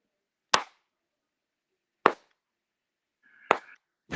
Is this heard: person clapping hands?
yes